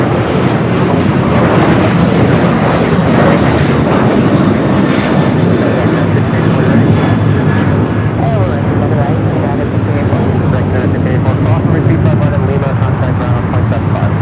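A Virgin Atlantic airliner at LAX roars past as a loud, steady broadband engine wash that fills the whole stretch, with rumble and rushing hiss and a voice speaking over it.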